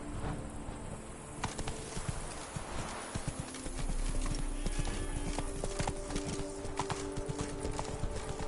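Horse hooves clip-clop in a PS4 video game in a quick, regular rhythm of close, crisp taps that runs throughout, over a soft outdoor ambience.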